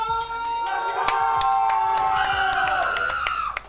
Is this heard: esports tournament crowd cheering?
yes